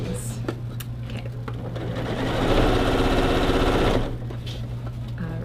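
A sewing machine stitches a quilt seam, its fast, even needle hum swelling louder for about two seconds in the middle before easing off, heard close up beneath a steady background drone.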